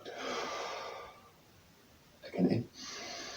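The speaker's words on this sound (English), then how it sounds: "We're breathing in." A person slowly breathes in and out during a closing breathing exercise, a long soft exhale first, then a short stronger breath and another gentle airy breath, close and quiet with no talking.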